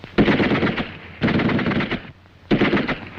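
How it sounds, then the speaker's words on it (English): Schmeisser submachine gun firing three rapid bursts, each a loud rattling string of shots lasting about a second, separated by short pauses. "Behind the tree, the sergeant prepares to fire confusing bursts with the Schmeisser."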